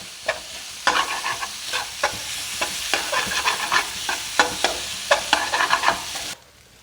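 Boiled eggs and green peas fry in masala in a pan, stirred with a spoon: a steady close sizzle broken by repeated sharp scrapes and clinks, then a sudden near-silence at the very end.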